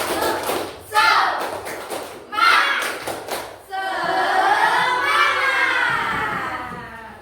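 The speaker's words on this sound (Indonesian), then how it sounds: "Tepuk semangat. Kok loyo, ayo diulangi lagi, masih awal-awal." A classroom of fifth-grade pupils performs the rhythmic 'tepuk semangat' clapping chant, bursts of quick claps and shouted group voices, loud and near, with a teacher's voice prompting between rounds.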